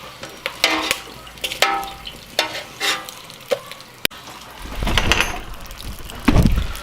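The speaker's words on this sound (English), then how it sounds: "And there they are, crackling away, listen to that." Pork skin cracklings pop and crackle after deep frying in oil, giving irregular sharp snaps close by, with a louder rustling, sizzling stretch toward the end.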